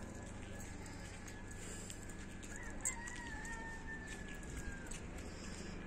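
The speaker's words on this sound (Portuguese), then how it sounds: "Galo canta." A rooster crows somewhere in the distance over a hilltop neighbourhood in Mindelo, Cape Verde. One drawn-out call rises and falls against steady ambient background noise, with faint clucks and clip-clop sounds nearby.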